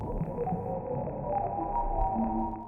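Low-frequency waves from space, turned into audible sound, form a deep, monotone hum that throbs and drones steadily and evenly throughout, with no voices.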